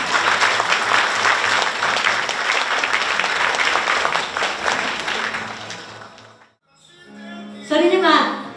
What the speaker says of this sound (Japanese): 改めて拍手をお願いいたします。